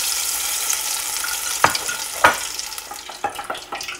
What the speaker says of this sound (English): take it over to your Fry Daddy and drop it in pretty easy